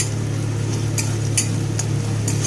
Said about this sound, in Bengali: রসুনটাকে দিয়ে ভালো করে পেঁয়াজের সাথে ভেজে নেব